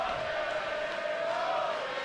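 Arena crowd roaring and cheering at a WWE 2K wrestling match, a steady, dense wall of voices with a rising shout, sustained and fairly loud throughout.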